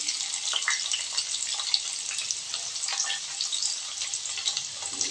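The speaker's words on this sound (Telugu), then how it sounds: "ఇవన్నీ కలిసి బాగా గోల్డెన్ ఫ్రై వచ్చేదాకా కలుపుదాం" Steady, close sizzle of onion and garlic frying in oil, a continuous crackling hiss with faint stirring, no voices.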